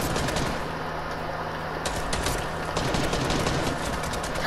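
Rapid machine gun fire in a video game, a continuous dense burst of rattling shots, loud and close with no break, with no talk over it.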